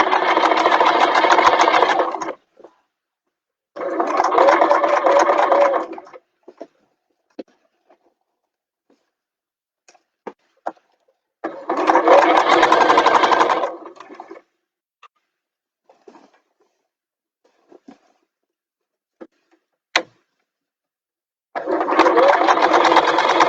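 A sewing machine stitches a fabric bag in four loud, steady runs of rapid whirring, each lasting a few seconds, separated by quiet pauses filled with faint clicks and fabric handling.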